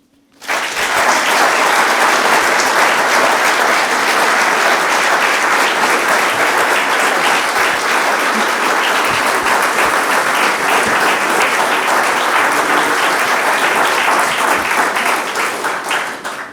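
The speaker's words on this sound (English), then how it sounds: "The applause says it all" A large audience applauds loudly and steadily after a keynote by the Metropolitan Police Commissioner, a dense wash of clapping that swells in at once and holds for about fifteen seconds before starting to taper.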